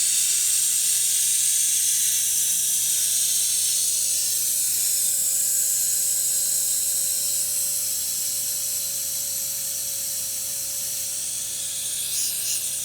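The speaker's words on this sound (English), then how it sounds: "We're going to open the bleeder. I'm going to open this little valve." An opened brake bleeder valve gives a steady, close airy hiss as it sucks fluid, continuous and even in loudness from start to finish, with a faint constant tone beneath.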